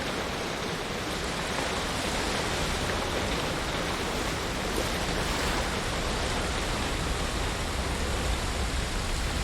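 Continuous roaring water from a waterfall in Ghost of Tsushima, an even, full hiss of falling water that holds steady throughout without talk.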